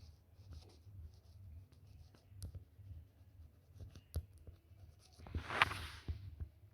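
Faint scratching and tapping of writing on a board during a geometry lesson, scattered soft strokes over low room hum, ending in a brief louder squeak.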